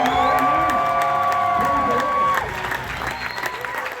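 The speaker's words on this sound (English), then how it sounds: "let's give Jesus one big hand clap" An audience claps and cheers together at a lively church gathering, a dense wash of hands and shouts that stays loud and close before easing slightly.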